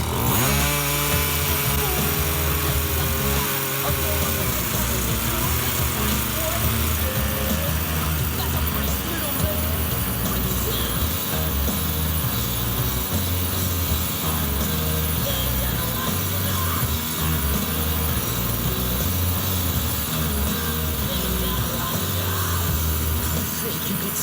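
A Redcat Rampage XR Rally 1/5-scale gas RC car's small two-stroke engine runs continuously, a loud buzzing drone with wavering pitch as the idle is raised, sustained close up with no break throughout.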